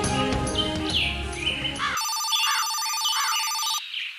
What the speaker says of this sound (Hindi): दौलत भाई का फोन